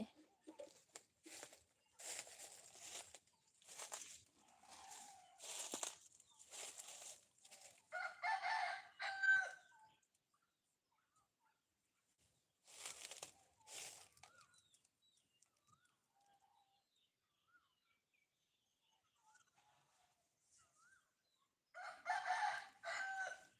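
Chickens cluck and squawk in busy bursts with gaps of near silence between, fairly close and moderately loud, no voices present.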